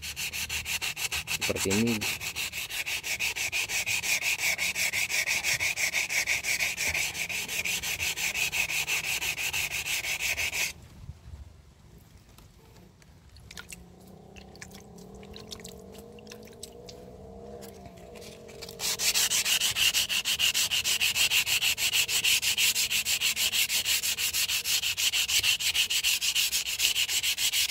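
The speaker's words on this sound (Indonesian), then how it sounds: "jadi bagian punggungnya harus diamplas juga ya" Steady rough scraping of sandpaper rubbed back and forth along the spine of a rusty machete blade, close and continuous, with a quieter stretch midway before the sanding resumes.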